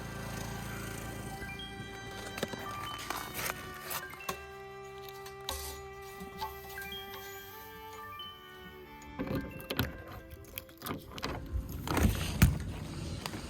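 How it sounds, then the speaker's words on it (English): A portable generator runs beside a fully insulated ice shanty in bitter, windy cold near -10, giving a steady droning hum with sustained tones, while clinks, clatter and handling noises from nearby setup work rise and fall over it. "we got the generator ripping"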